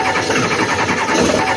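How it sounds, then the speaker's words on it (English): A Ford 7.3 diesel truck engine cranks and starts, settling into a loud, steady, close-up rumble with no talk over it. "Let me start her up real quick and show you what the heck is wrong."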